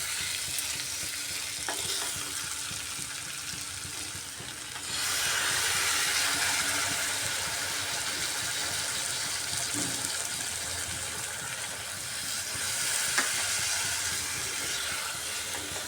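Pointed gourd curry with gram flour cooks in a pan after water is added, giving a loud, continuous sizzling and bubbling hiss that swells midway and holds steady without any voices.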